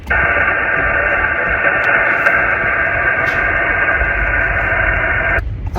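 A noisy amateur radio receiver during a Parks on the Air contact hisses with dense, steady static and a droning band of interference for several seconds, cutting out abruptly near the end, loud and close with no clear voice.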